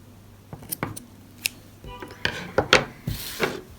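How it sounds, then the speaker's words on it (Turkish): Scissors snipping sewing thread on a handmade rabbit hat, several short sharp cuts and rustling handling sounds close by, irregularly spaced. "Şimdi ipimi kesiyorum."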